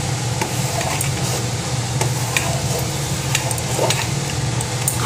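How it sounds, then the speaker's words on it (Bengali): Bengali puja-style khichuri being stirred in a pot after a little sugar and ginger paste go in, a steady soft scraping and bubbling hiss continuing evenly throughout with no voices. "আদা বাটা দিয়ে ভালো করে মিশিয়ে দেবো"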